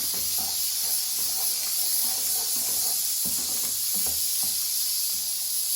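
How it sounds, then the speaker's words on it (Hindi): Sliced onions fry in oil for a mutton and okra curry, giving a continuous even hiss with faint crackles underneath, no voices. "in the same oil, she's frying the onions, the sliced onions"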